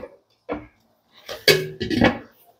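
A lid set back onto a cooking pot of monggo: a few short metallic clanks and a brief rattle, close by, with quiet gaps between them.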